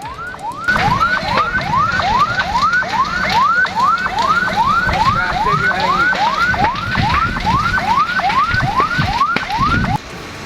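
Fire engine siren at a fire that burned two roadside food stalls in Situbondo, East Java. A loud, rapid wail rises and falls about twice a second, repeating steadily for roughly nine seconds over background rumble.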